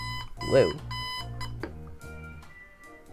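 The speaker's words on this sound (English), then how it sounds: "That's my alarm. Or at least one of them." A real alarm clock goes off in a room, steady repeating tonal beeps running for a few seconds under a voice reacting and talking over it.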